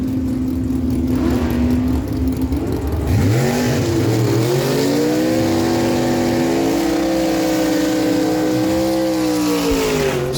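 A 2002 Spitzer dragster and a 1984 Chevy Camaro with a 565 cubic inch engine launch side by side on a drag strip, a loud continuous engine roar that climbs and surges through gear changes for the full pass.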